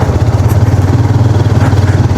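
A motorcycle engine thrums loud and close with a rapid, even pulsing beat while riding a mountain road in Chitral, Pakistan, steady throughout with no voices.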